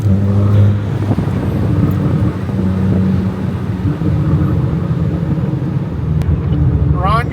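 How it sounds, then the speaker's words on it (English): A Volkswagen car's exhaust burbles and rumbles at close range, a low throaty drone with crackling texture that continues throughout while people talk over it. "the actual exhaust tone on this thing is great"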